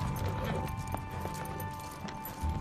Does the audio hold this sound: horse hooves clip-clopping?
yes